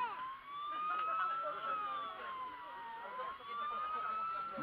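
A small wailing siren on a Fire Patrol model fireboat at a floating-model show, rising and falling in slow sweeps, fairly faint against outdoor background with voices nearby.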